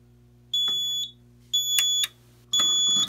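Three loud, shrill electronic beeps from a Simplex 4004 fire alarm panel, each about half a second long, evenly spaced over a low steady hum.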